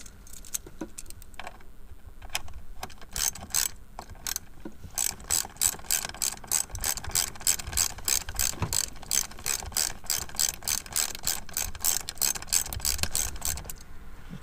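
A ratchet with a 10 mm socket clicks rapidly and steadily while undoing the shifter bolts on an R33 GTR, starting with a few scattered clicks before settling into a long, even run of close pawl ticks.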